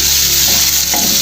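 Julienned carrots stir-frying on a high flame for Chinese fried rice, a steady close sizzle with scraping stir sounds swelling near the end, no voices.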